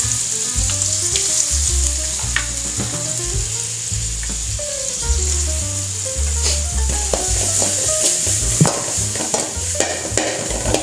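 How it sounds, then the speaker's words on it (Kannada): Chopped onion sizzles in hot oil for a Mangalore-style soya chunks sukka, a constant close frying hiss broken by repeated scraping and stirring knocks in the pan. "ಫ್ರೈ ಮಾಡ್ತಾನೆ ಗೆಡ್ಡೆ"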